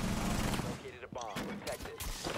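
Rainbow Six Siege gunfire: a dense rattle of shots fills the first second, then scattered reports follow under an excited voice talking.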